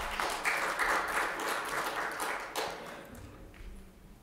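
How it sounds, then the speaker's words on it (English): An audience gives a round of applause, a burst of many hands clapping that peaks early, then thins out and fades toward the end. "So a round of applause."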